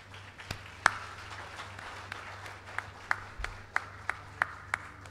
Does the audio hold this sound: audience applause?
yes